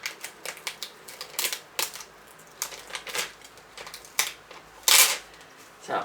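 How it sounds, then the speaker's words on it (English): Paper label being peeled off a recycled plastic container, with a run of crisp tearing and crackling bursts, several sharp rips and one loud tear near the end, close up and with no talking. "You can maybe try to peel this whole thing off from here with the paper on it"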